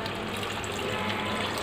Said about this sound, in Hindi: इसमें अब ऐड करेंगे पानी।